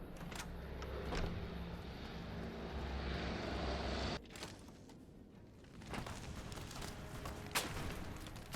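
A bomber aircraft drones overhead in a post-apocalyptic video game, its steady engine roar holding for several seconds and then cutting off abruptly, with fainter rumbling and scattered bangs afterward.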